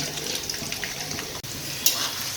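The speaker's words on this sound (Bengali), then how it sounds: "তেল গরম হয়ে এলে এবার তেলে দিয়ে দেব এক কাপ পেঁয়াজ কুচি" A cup of chopped onions frying in hot oil for a spicy beef dish, with a continuous close sizzle and a brief louder spatter near the end.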